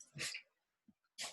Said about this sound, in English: my dog needs in the room now too